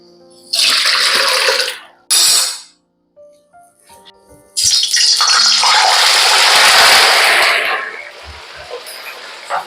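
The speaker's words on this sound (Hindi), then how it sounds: "इसमें जो पानी है ना वो हमें ड्रेन कर लेना है" Water drained off soaked banana slices being prepared for Kerala banana chips, heard as loud splashing pours in separate bursts with some clattering and short pauses between them.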